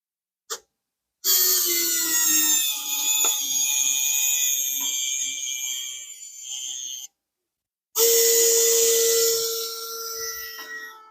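A small RC winch on a Rlaarlo JK-07 Pro crawler hauls the truck up through a makeshift rope pulley, giving a loud, high electric motor whine in two long bursts separated by a brief pause, with no talking.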